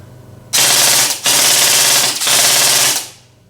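A loud, rapid rattling burst of full-auto fire from an E&C Colt M4A1 gel blaster rifle, three quick strings with brief breaks, close up.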